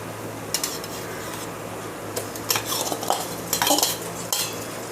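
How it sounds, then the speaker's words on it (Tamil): Ginger garlic paste being sautéed with browned onions in a pan, with intermittent scraping and stirring clinks of a utensil against the pan over a faint, steady background. "இந்த இஞ்சி பூண்டோடைய பச்சை வாசனை போகிற வரைக்கும் நம்ம வந்து இதை வதக்க போகிறோம்."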